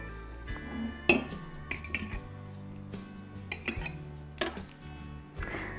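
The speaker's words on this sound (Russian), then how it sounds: "Закладываем капусту в банку." Pickled cabbage packed into a glass jar: scattered clinks and knocks of glass and utensils, some sharp and close, over a steady musical background.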